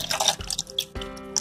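Milk being poured into a mixer jar for a banana shake, a short liquid splashing and trickling sound, close and moderately quiet, with no talking.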